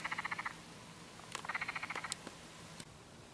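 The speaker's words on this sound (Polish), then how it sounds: "słychać żaby" Rapid trilling frog calls in quick pulsed bursts, a few separate runs with pauses between, faint over quiet background noise, heard while fishing outdoors.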